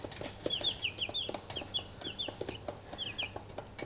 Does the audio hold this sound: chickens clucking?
yes